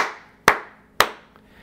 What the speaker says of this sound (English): And what that does is this microphone picks up the three claps pretty loudly.